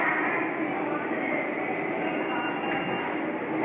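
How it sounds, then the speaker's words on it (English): A New York City subway N train running on the R line underground, a steady loud rumble and roar that holds evenly for a few seconds with a faint squeal near the end. "the N train is running on the"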